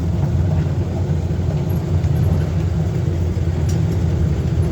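A small Broadway car rolling along, heard as a loud, steady low engine rumble close by, continuous with no speech.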